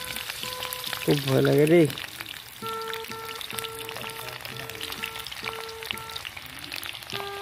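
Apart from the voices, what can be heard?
onions frying in hot oil for pork recipe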